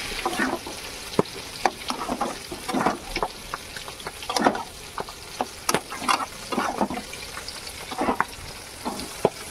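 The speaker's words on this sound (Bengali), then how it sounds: "এবার এটারে নাড়াইয়া চালাইয়া মশলাগুলো মিশিয়ে দিতেছি।" Cabbage being stir-fried with spices in a pan, with repeated scraping stir strokes and short bursts of sizzle recurring irregularly throughout, close and moderately loud, no voices.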